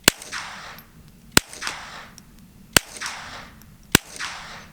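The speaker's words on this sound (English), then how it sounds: "We're going to start with supers, and then we're going to move to suppress. So we got 5 rounds of supers." .22 supersonic rounds fired through a SilencerCo Sparrow 22 suppressor, four loud, sharp cracks at steady intervals of about a second and a half, each followed by a brief rolling echo, with no talking.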